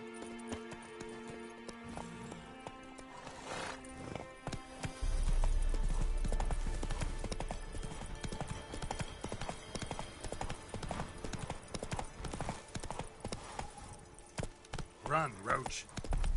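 Roach the horse gallops in The Witcher game on PS5, a steady rhythmic clip-clop of hooves over a loud low rumble, with music and game sounds mixed in and a brief whinny-like flourish near the end.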